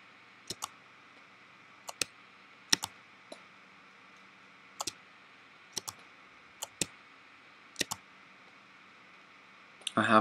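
Computer mouse double-clicked repeatedly while selecting edges in 3D modeling software, sharp faint clicks mostly in quick pairs at irregular intervals over a low background hum.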